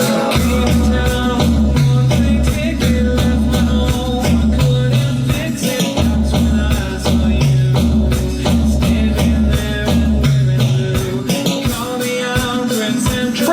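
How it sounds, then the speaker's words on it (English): A programmed drum pattern of snare hits and tom rolls sits over a full track with a repeating bass figure, busy and steady for the whole stretch, no talking. "now we're going to go ahead and add in our snare drums and our toms"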